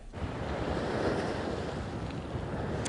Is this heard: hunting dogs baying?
no